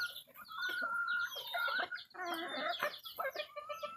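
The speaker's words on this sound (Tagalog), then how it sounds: "mga labuyo na ni sila, mga kaliwat na ni labuyo, mga kanter" Labuyo wild junglefowl chickens cluck and call close by in a quick series of overlapping squawks and clucks, fairly clear with no talk.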